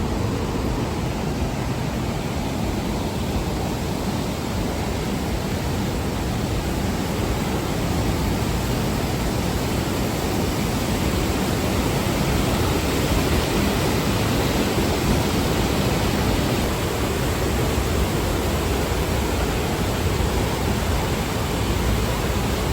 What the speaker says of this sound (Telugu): ఈ వాటర్ వెళ్ళి ఫాల్స్ లాగా కింద పడతాయి మొత్తం.